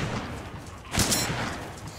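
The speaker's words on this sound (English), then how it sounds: "That gunshot made my game." A single gunshot cracks out in the survival video game DayZ, a short, sharp burst heard over steady background game noise.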